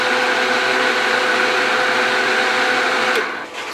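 A blender runs at steady high speed mixing cacao powder into a smoothie, a loud continuous whirring motor drone that winds down near the end, with no talking.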